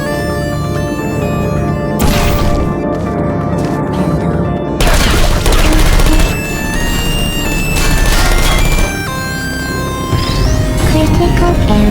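Sentry turret gunfire in the Portal 2 video game, loud dense bursts of rapid shots and booming impacts layered over game music and effects, with a few short breaks between volleys.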